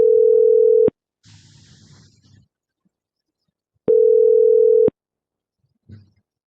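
A VoIP call placed from a laptop to phone number 2222 produces a loud, steady ring tone that sounds in two one-second bursts about three seconds apart. Faint clicks and soft handling noises fill the gaps.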